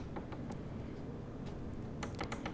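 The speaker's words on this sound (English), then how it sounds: "Here's the sound of me clicking the buttons." Plastic buttons on a computer monitor being pressed, a few sparse clicks early on and then a quicker cluster of clicks near the end over a steady low hum.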